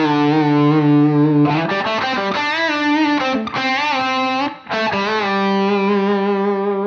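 Distorted electric guitar plays string bends in a sustained, heavily effected lead line, loud and continuous with smooth pitch glides and no talking.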